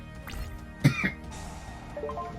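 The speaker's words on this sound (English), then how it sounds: "I feel a cough." A single short cough bursts out close by, followed by a softer second hack, then quiet room noise.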